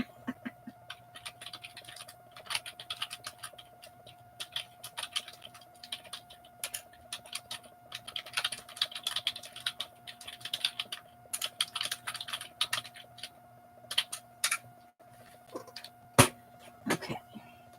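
Rapid typing on a second computer keyboard, a close, uneven run of clicking keystrokes that comes in bursts with short pauses, over a faint steady hum.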